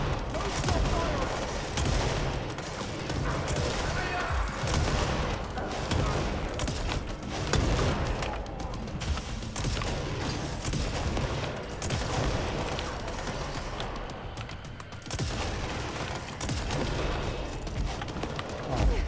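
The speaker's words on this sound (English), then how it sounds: "Find an opening! Don't stop firing!" Heavy gunfire fills a boss fight in the video game Control, with dense, continuous bursts of rapid shots and booms layered over each other, loud and relentless from start to finish.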